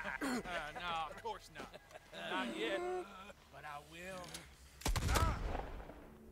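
Gunfire in Red Dead Redemption 2, a few sharp shots scattered through steady overlapping talk, with one louder, heavier burst near the end.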